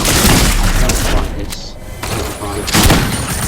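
Rapid Fire SMG shooting in Fortnite, a loud dense stream of fast shots with booming impacts, briefly pausing midway before resuming, with a voice talking over it.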